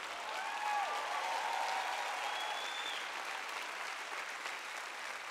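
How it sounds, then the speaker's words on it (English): Audience applause at a sermon gathering fills the space in a dense, even wash of clapping that holds steady and fades slightly toward the end. "Come on, you can clap louder than that."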